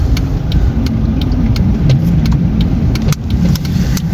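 A car rolls down a slope on an icy road in Irkutsk during severe cold, with the brakes pressed. A loud, close, continuous rumble of engine and tyres carries light ticking and clicking throughout.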